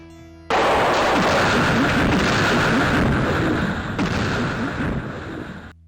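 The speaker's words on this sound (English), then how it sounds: "is there a louder gun than this?" A very loud gun firing continuously in the game Flash Traffic: City of Angels, a dense, booming roar of shots that runs for several seconds before cutting off abruptly.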